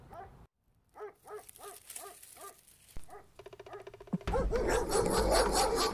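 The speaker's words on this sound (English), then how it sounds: "do you hear that? It sounds like dogs." Several dogs bark in a quick series of sharp yaps, then a jumble of louder barking and scuffling noise swells near the end.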